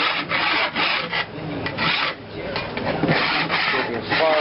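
A hand file rasps back and forth on the edge of a homemade go-kart fender to clear burrs, giving a close, steady series of scraping strokes.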